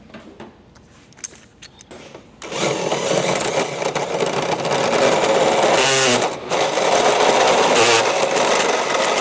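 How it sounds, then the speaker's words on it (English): A power drill whirs loudly and continuously during work on a car roll cage build in a garage, following a few quieter knocks and handling noises at the start. "Where's the drill?"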